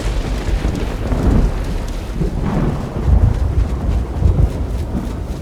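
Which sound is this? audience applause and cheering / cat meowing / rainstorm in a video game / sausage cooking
rainstorm in a video game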